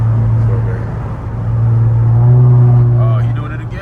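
Loud twin-turbo Infiniti Q50 engine driving on roads in upstate New York, a steady deep drone that swells and eases slightly, with occasional faint voice-like tones over the rumble.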